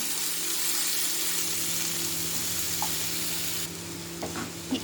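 Tomatoes softening in a pan of oil for vegetable biryani, a steady low sizzle with occasional stirring clinks, close and continuous, with no talking.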